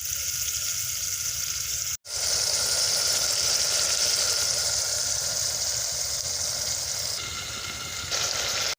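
Tomatoes, chili and spices frying in ghee, a steady, close sizzle and crackle that cuts out briefly before resuming, easing slightly near the end, with no one speaking.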